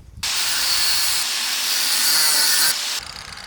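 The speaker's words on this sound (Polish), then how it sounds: "Natomiast pomożemy sobie na razie szlifierką." A loud, steady high-pitched grinding whine runs for about three seconds, starting and stopping abruptly, as an angle grinder grinds a metal part of a sticking cellar door lock.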